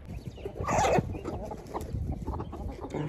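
Fighting chickens on a village farm cluck and squawk close by, with one louder burst of cackling near the start over a busy outdoor background.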